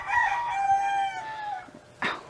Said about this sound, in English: that was the little roosters crowing